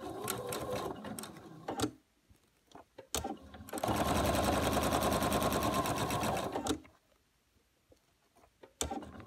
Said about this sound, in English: I'm gonna go ahead and sew another seam 1/4 inch to the right of this diagonal